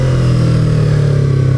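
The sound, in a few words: 2015 Yamaha R3 motorcycle engine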